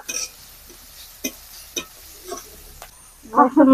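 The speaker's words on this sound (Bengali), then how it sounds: "পেঁয়াজ আর কাঁচা লঙ্কাটা হালকা করে ভেজে দিব" Chopped onion and green chili frying lightly in a pan for a children's school tiffin, heard as a few short stirring scrapes and soft sizzle bursts, then a louder clatter near the end.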